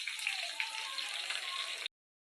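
Hilsa wrapped in bottle gourd leaves fries in a pan over medium heat, giving a steady, close sizzling hiss that runs unbroken for about two seconds and then stops abruptly.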